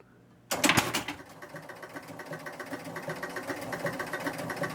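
Score motor of a Spirit of 76 pinball machine starting up after a sharp switch clunk, then running with a steady mechanical whir and rhythmic clicking, close and moderately loud.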